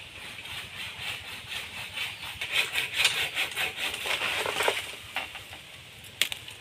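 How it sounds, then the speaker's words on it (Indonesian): A hand saw cuts through a thin bamboo stalk outdoors on farmland, its steady rasping back-and-forth strokes growing louder mid-cut, then tapering off into a few sharp cracks and snaps near the end. "karena setelah digergaji perlu ditarik-tarik kayak gitu ya untuk pohon bambunya"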